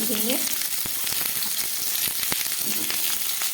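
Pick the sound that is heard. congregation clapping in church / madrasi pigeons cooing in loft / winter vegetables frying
winter vegetables frying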